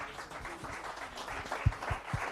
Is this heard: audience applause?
yes